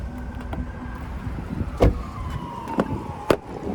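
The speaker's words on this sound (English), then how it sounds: "I'm sure you can hear that siren though." Emergency vehicle siren heard from inside a moving 2025 GMC Sierra 1500 Denali Ultimate, a faint distant wail rising and falling under road and cabin noise, with a few soft knocks.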